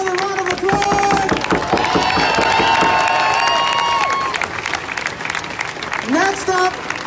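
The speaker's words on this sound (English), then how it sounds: "let's give Michelle another round of applause." At an outdoor justice rally in Minneapolis, a crowd breaks into loud applause with whoops and sustained cheering. Voices shout over the clapping, which gradually thins toward the end as a few cheers rise again.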